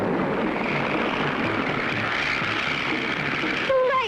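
Cartoon airplane from a 1959 animated short drones steadily, a broad rough engine roar holding constant throughout, with a brief high tonal blip right at the end and no talking.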